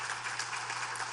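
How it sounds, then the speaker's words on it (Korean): A church congregation at a Sunday service applauds in a brief, even burst of clapping over a low steady hum. "우리 하나님 앞에 크게 영광의 박수를 한번 올려드리십시다."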